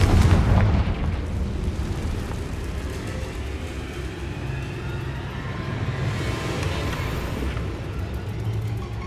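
A Confringo blasting spell detonates in the video game Hogwarts Legacy, with a heavy boom at the start followed by a long rumbling, crackling tail of debris and fire that fades but stays loud, with no talk.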